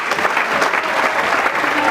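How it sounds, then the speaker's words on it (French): Audience applause at a university conference at Kolwezi, dense close clapping filling the whole moment. "nos intervenants regagnent leur place sous vos applaudissements"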